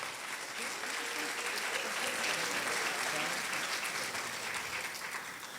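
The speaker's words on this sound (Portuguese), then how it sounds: "Mais uma vez, uma salva de palmas, senhoras e senhores" An audience at a Brazilian presentation and lecture event claps steadily, a dense, even patter of applause from a moderately sized crowd at a moderate distance that holds throughout.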